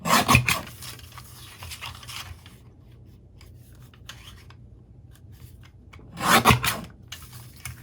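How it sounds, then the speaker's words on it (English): A piece of paper is trimmed down for a handmade fall-scene card: a close, scratchy rasping cut over the first couple of seconds, a quiet pause, then a second short sharp swipe near the end, with no talking. "I want to trim this down to just shy of 4 inches."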